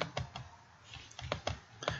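Typing on a computer keyboard while entering a name in PowerPoint, heard as a series of separate key clicks in short bursts, close and fairly quiet, with no voices.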